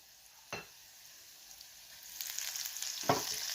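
Chana dal, coriander seeds and cumin fry in hot oil, a soft sizzle that builds and thickens partway through, broken by two brief sharp spatters, quiet overall and with no talking.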